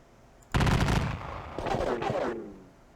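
Musket and cannon fire in the Tiller Games Battle of Perryville, an American Civil War strategy game, comes as a loud booming volley and then a second rattling burst, each fading quickly.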